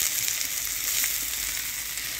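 Potatoes drop into hot oil with chopped onion and nigella seeds, giving a steady close sizzle with faint crackles throughout, and no voices.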